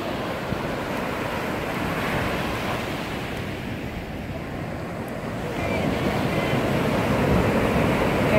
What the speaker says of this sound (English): Oh, here come the big waves.